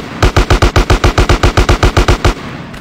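An AK rifle fires in GTA San Andreas: a rapid automatic burst of about fourteen loud, close shots in an even rhythm. The shots stop abruptly, with no voices.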